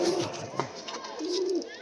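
A caged pigeon coos softly in a few low, rolling phrases, close by, with a brief knock partway through and some background noise around it.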